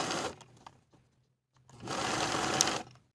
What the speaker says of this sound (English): close the gap in your stitching, sewing along the original stitching line.